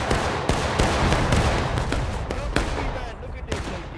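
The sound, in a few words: musket volley fire in the video game War of Rights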